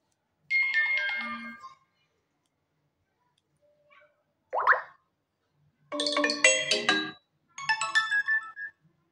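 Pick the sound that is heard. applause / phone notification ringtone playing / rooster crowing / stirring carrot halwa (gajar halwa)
phone notification ringtone playing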